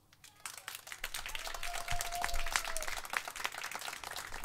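A church congregation claps in applause, starting faint and building to a steady mid-level round of scattered hand claps with a brief whistle-like tone partway through.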